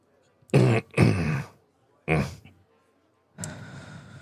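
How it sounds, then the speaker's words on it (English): A man coughs and clears his throat in a few harsh bursts, two quick ones close together, another a moment later, then a rougher fainter one, heard close with no talk. "whoa, bad cough"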